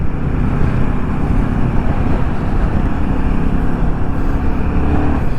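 Loud, constant road roar from a motorcycle riding through busy traffic on a Himalayan route, with engine drone and wind rush. No single passing car stands out.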